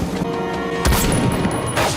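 Heavy gunshots from an M82 sniper rifle in a film action scene, a loud booming shot near the middle followed by another blast toward the end, with a sharp ringing tone between them.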